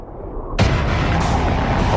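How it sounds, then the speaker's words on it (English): A one-megaton nuclear bomb detonates at ground level, a sudden loud blast that swells into a dense, sustained roar with no voices. "A 1 megaton surface explosion will lift tons of soil up into the mushroom cloud"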